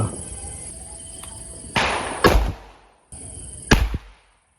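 Firecrackers for the Vishu festival burst in two loud cracks with sharp broadband onsets, each followed by a short crackling tail, while crickets trill steadily underneath.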